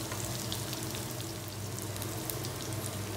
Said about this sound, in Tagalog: Lulutuin lang natin itong ating onion.